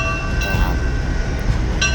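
A train on the Midwest Central Railroad heritage line rumbles steadily and loudly nearby as it arrives, with faint metallic squeals over the continuous low roar.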